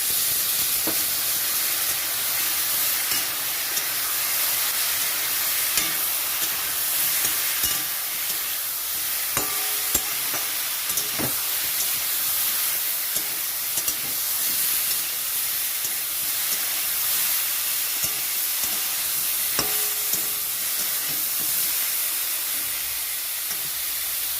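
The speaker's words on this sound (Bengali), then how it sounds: "এখানে মশলাটা কষানোর জন্য একটু জল দিয়ে দিচ্ছি।" Water poured onto spice masala frying in a pan for a rohu fish curry with potato and plantain, a loud close hiss and sizzle with occasional spoon scrapes and clicks, no voices.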